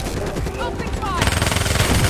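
Machine gun fire in Call of Duty Black Ops 3, mission New World: after a brief quieter lead-in, a loud, rapid, evenly spaced stream of shots rattles on close by.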